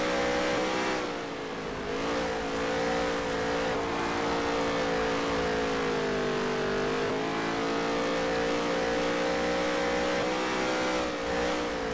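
A NASCAR race car engine in the NASCAR Heat 3 video game drones steadily at high revs through fast laps, its pitch gently rising and dipping in the turns, loud and continuous with no talking.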